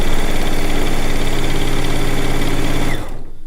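A sewing machine stitches a quilt top, running at a steady fast rhythm with a dense mechanical whir close by, then cuts off abruptly near the end and leaves a quieter hum.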